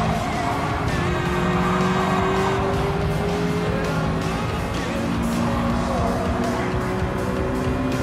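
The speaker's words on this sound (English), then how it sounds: "I'm drifting." A car in Gran Turismo 7 drifts under regular braking and turning, its engine droning steadily while tires squeal in long sustained whines, loud and continuous throughout.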